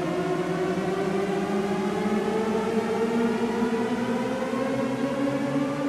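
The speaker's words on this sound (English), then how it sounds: "it sounds like a never-ending rising pitch" A Shepard-Risset glissando synth patch on a Fractal Axe-Fx, steady layered tones that seem to rise endlessly, running continuously at an even, moderate level with no talk.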